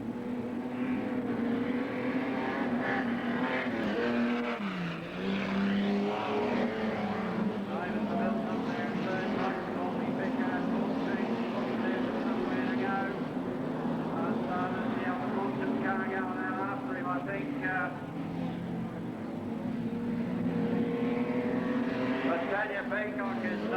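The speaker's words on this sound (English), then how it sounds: "Peacock is leading Cox, and we've got 9 cars right in the middle." Modified sedan race cars roar around the Western Speedway dirt oval at Hamilton during the 1991 Victorian title, a dense continuous engine drone under constant race commentary.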